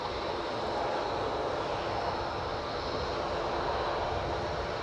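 A WestJet airliner moves at Edinburgh airport, its engines making a steady, even roar that stays at one level throughout with no voices.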